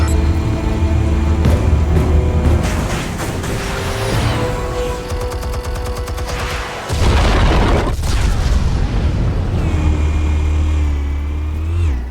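Explosives detonate in Telltale Batman Season 1: a loud, deep boom bursts in partway through, over a dense rumbling, roaring game soundscape that runs throughout.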